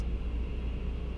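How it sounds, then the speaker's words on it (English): A loud highway maintenance truck drives close by, producing a brief, steady low engine rumble and road roar with a constant high whine, with no voices present. "Just literally drove right behind a highway maintenance truck, and it's so loud."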